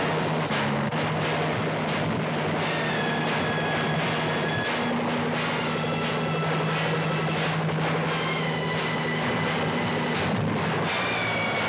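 A helicopter engine in a 1968 Hindi film drones loudly and without a break, with a high whine riding on top of the constant roar.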